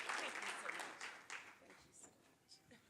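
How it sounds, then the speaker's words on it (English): Audience applause for an honored teacher at an awards ceremony, a burst of clapping that fades and thins out over a few seconds, with scattered cheers and voices mixed in. "Give another round of applause."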